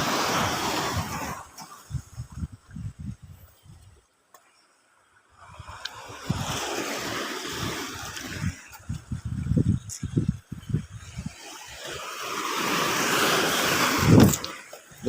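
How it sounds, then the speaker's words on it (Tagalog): Strong sea waves surge and crash along a rocky fishing shore during monsoon weather, rising in loud washes with wind buffeting the microphone and a short lull between swells. "Lakas ng dagat guys."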